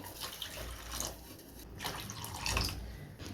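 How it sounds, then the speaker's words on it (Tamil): Water poured into jaggery in a cooking pot for a sweet, a steady splashing trickle with brief louder surges, close and alone. "எந்த கப்பில் வெள்ளம் எடுத்தோமோ அதுக்கு மூணு கப் அளவுக்கு தண்ணி வந்து சேர்த்துக்கலாம்"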